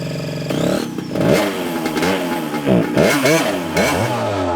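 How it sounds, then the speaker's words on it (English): Two-stroke mini bike engine revving hard at a small go-kart-style Grand Prix track, a buzzy high-pitched whine rising and falling through repeated throttle blips, loud and close, with no talk. "We're gonna run a couple of laps on the Cars and Cameras Grand Prix with the two-stroke mini bike"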